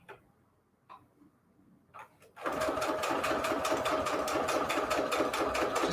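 A few faint clicks and taps give way to a sewing machine stitching signatures into a junk journal, a fast, even mechanical rattle, close and steady for the rest of the clip.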